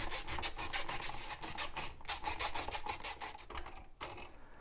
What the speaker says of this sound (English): we're going to undo the 2 screws that are holding in our actual light switches.